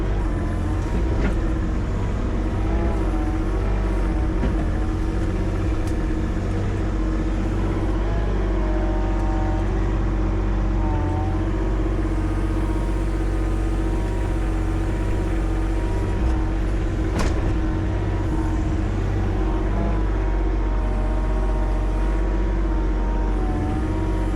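A heavy excavator engine working in muddy ground rises to a higher RPM, a loud, steady low diesel rumble that runs throughout with a slight climbing pitch and no talk over it.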